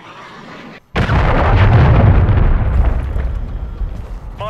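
A missile explosion in Call of Duty MW3 erupts suddenly after a quiet moment, a loud close boom that rolls into a long rumbling, crackling tail and slowly fades.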